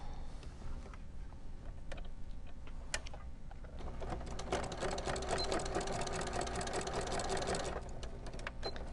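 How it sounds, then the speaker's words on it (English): A sewing machine stay-stitching a dog bone Christmas stocking, its needle chattering steadily and close, speeding up into a louder, denser whir in the second half before easing off. "we're just going to stitch him down so that he does not move"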